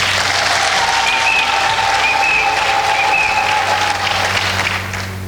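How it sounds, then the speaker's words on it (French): An audience claps loudly and continuously at a church celebration of Congo's independence anniversary, a dense, sustained applause with faint tonal calls on top that eases off slightly at the very end. "On peut applaudir."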